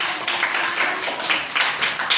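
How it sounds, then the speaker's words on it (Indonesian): Schoolchildren in a classroom clap their hands together in a brief, brisk round, fairly close and steady. "Beri tepuk tangan untuk"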